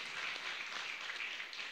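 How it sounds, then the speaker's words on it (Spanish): An audience at a ceremony for the Madres de la Plaza applauds, a dense, even wash of many hands clapping at moderate loudness, with no voices standing out. "Por eso me aplaude, porque son nuestros delegados"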